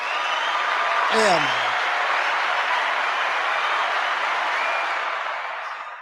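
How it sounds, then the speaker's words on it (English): A talk-show audience gives a guest a steady, sustained round of applause that fills the space evenly and slowly fades, while someone briefly speaks over it near the start. "Let's give him a round of applause."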